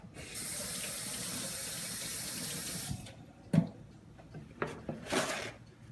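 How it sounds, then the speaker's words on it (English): A kitchen tap runs steadily for about three seconds as a finger is rinsed, then shuts off. Sharp clunks and brief splashes follow, close and fairly quiet. "let me rinse my finger off"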